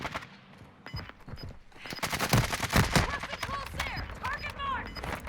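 Rapid bursts of gunfire in the video game Warzone 2, sharp repeated shots clustered in the middle and trailing off, with a voice talking over parts of the action.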